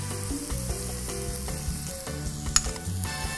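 Minced rosemary and sage sizzling in a pan for Bolognese sauce, a steady close crackle with occasional clinks and scrapes of stirring, no voices.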